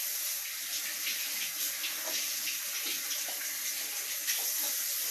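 Potatoes being rinsed under a running kitchen tap while preparing lunch and potato salad, a steady close hiss of water splashing into the sink with small shifting splatters throughout.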